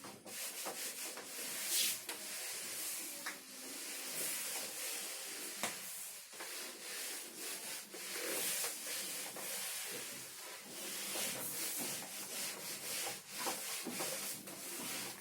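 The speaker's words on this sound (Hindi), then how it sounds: "मैं इसको रब कर रहा हूँ।" An object is rubbed during an electrostatics physics demonstration, producing a continuous close scraping, sanding-like friction in uneven strokes, with no speech.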